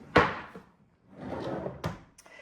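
A wooden kitchen drawer in a rented flat slides open and bumps shut, with sharp knocks at the start and end and a muffled sliding rumble between them.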